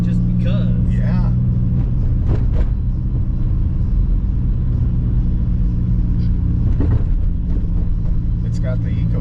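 A drift car with a small Chevy four-cylinder Ecotec engine and one-wheel rear drive rumbles steadily and loudly from inside the cabin, a constant low drone with people talking over it.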